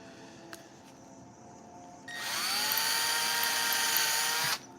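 A power drill spins up with a drill bit, a steady loud high whine that starts abruptly partway through and runs for over two seconds before cutting off, after a quiet stretch with faint background noise.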